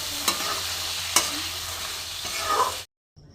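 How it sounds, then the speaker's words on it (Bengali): Fish pieces coated with salt and turmeric fry lightly in a pan, giving a close, continuous sizzle broken by a few sharp stirring clicks before cutting off abruptly. "এবার আমি হালকা করে ভেজে নেব।"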